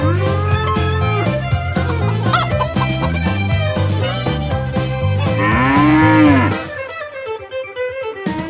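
Dairy cows low loudly and repeatedly in a farm corral after the morning milking as they are let out to pasture, with long drawn-out moos close by.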